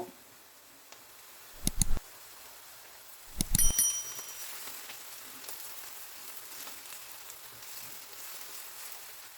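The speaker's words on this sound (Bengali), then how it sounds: "অনিয়নগুলোকে ভেজে হালকা ব্রাউন করে নিতে হবে।" Onions frying in oil with lemon zest for chicken kabsa, a faint steady sizzle broken by two bursts of louder clattering and stirring, with no talking.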